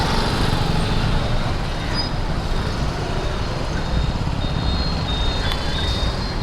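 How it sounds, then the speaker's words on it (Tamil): Heavy road traffic on a narrow street in Pondicherry, a steady loud roar of engines and vehicles close by, with a few faint horn or beep tones and no speech. "செம்ம டிராஃபிக் வேறுங்க."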